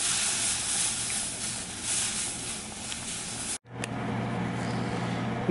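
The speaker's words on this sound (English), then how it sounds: "Now I start boiling the liquid." Liquid with kidney beans coming to a boil in a pot on the stove, a steady broadband hiss and bubbling that runs continuously, briefly cuts out, then resumes at the same close, even level with a low hum beneath.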